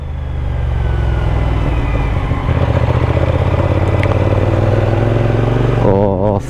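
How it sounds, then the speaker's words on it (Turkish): A motorcycle engine running at a steady drone while riding, loud and close, with a brief change in tone near the end. "Bak bu motorun sesi,"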